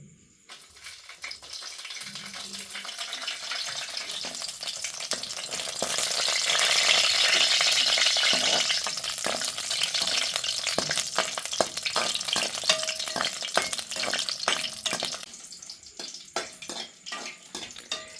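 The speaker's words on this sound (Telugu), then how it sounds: "కాగింది ఎండుమిరపకాయలు వేస్తున్నా" Dried red chillies dropped into hot oil in a village kitchen, a loud crackling sizzle that swells and then breaks into sharp pops and spatters before fading.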